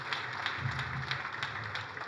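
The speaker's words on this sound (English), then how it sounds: "I would like to invite you to put our hands together and give a round of applause" Faint, steady clapping from an audience applauding the judiciary at a formal gathering, a dense patter of many hands heard from a distance with no talking.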